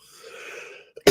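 A single short, high cough comes after a thin, drawn-out wheezy breath and a brief catch in the throat, sounding close and sharp at the very end.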